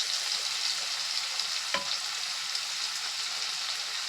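Mustard and poppy seed paste frying in hot oil for a tilapia curry gives a steady, close crackling hiss, broken by a single sharp click midway, with no voices.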